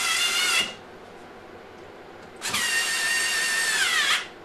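A power drill drives a 5x60mm wood screw through a small washer into wood, in two bursts of high whining motor: a short run, a pause, then a longer run that ends abruptly, close and loud.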